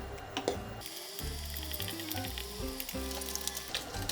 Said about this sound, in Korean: 여기 썰어둔 스팸을 넣고 이제 중불로 볶아 줄게요